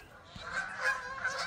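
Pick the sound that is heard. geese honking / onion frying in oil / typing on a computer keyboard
geese honking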